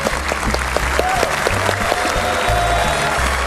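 A television studio audience applauds to welcome a pop singer guest onto a talk show stage, steady clapping running under music with a driving beat and melodic tones.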